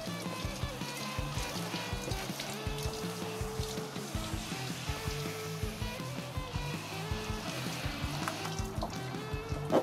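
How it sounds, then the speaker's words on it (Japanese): Running water rinses salt off the fins of a surfboard, a continuous trickling splash with small irregular spatters, close and steady, with no one talking. "帰ってきたら必ずここを重点的に水で流してください"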